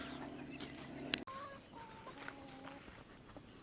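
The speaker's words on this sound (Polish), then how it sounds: "No a tu są nowe kury" Chickens clucking nearby, a few short soft calls with a sharp thump partway through, then quieter clucks.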